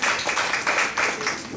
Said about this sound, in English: We deserve more applause because this is a 3-girl group, right?